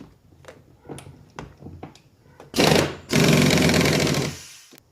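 A tool loosens a 14mm bolt holding a seat in an Infiniti G20, with a few sharp clicks followed by two loud, close bursts of rapid mechanical rattling, the second one longer.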